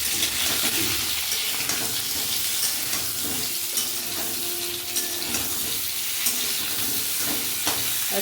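Potatoes sizzle in spiced oil alongside ridge gourd in a pan, a steady close hiss of frying with faint stirring scrapes throughout.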